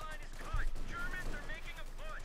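Gunfire from a Stuart light tank in the strategy game Company of Heroes 2, a brief burst of shots near the start that drops back beneath steady commentary talk and game ambience.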